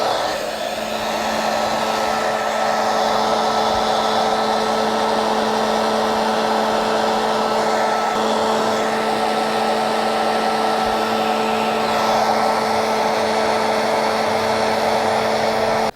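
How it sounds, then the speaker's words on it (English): A heat gun blows a steady, loud, close whirring hiss with a constant hum, running almost without change for the whole stretch while edges are shrunk, and no talking. "And with our heat gun, we're going to shrink the edges."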